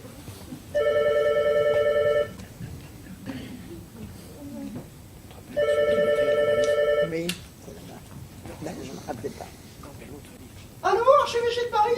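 A telephone ringing in an indoor stage play: two long electronic rings, each about a second long, with a pause between them, and people talking around and between the rings.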